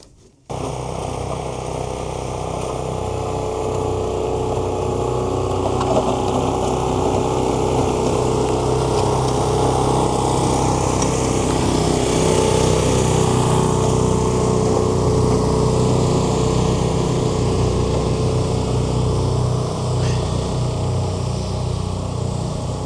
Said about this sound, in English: my eyes are seeing that the auger is going very fast on the snowblower